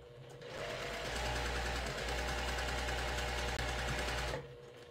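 A sewing machine with a fresh needle stitches a leaf quilt block in one steady, fast run of close mechanical whirring lasting about three seconds, then stops.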